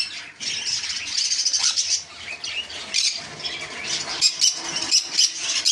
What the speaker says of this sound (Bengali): দুটোই সব সানকুনুর আছে